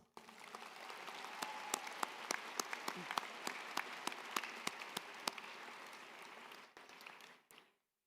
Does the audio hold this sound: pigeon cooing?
no